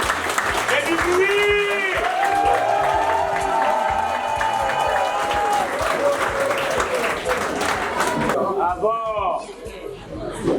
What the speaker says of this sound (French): vous lever d'applaudir très très fort pour Ali Bongo Ondimba.